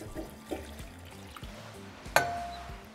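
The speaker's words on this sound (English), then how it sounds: "now we're just going to cover them with water" Water poured into a large pot of dried chile pods gives a low gurgling, sloshing stream with a few light clinks and one sharp knock against the pot near the end, fairly quiet.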